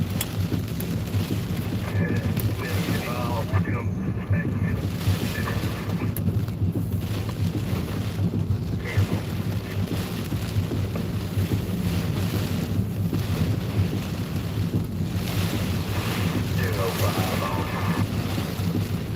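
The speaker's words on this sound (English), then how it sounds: "This wind is absolutely horrendous out here." Strong storm wind roars and buffets the microphone continuously during a storm chase in Kentucky, a loud, steady rumbling gust noise with no speech.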